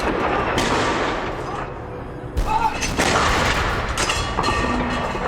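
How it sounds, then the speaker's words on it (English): Heavy booming blasts of cannon fire from the Tower of London roll and echo, loud and sustained, with a crowd murmuring faintly underneath. "Well, as Anne steps down here, the thunder of the Tower's cannon sounds all around her."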